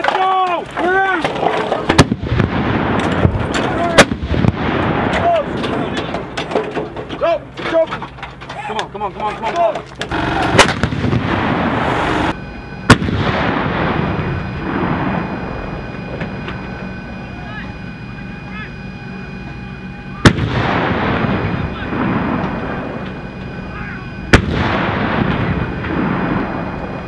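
A U.S. Army live-fire drill with sharp, heavy artillery blasts and bursts of gunfire at irregular intervals, some booms ringing out, while soldiers shout and talk over the firing.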